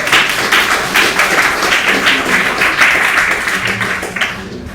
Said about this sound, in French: donc je dois applaudir.